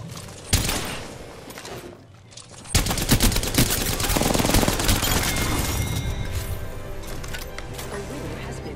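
Gunfire in the video game Apex Legends: a single sharp shot is followed by a short lull, then a long, loud burst of rapid automatic fire close by. A voice talks over the shooting.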